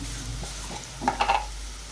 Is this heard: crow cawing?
no